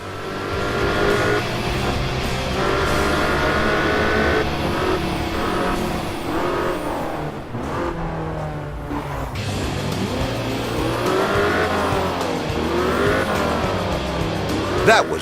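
A car in the Crash Time 5 video game brakes and accelerates, with a loud, continuous engine roar, revving and squealing tires. A voice speaks over the driving sounds.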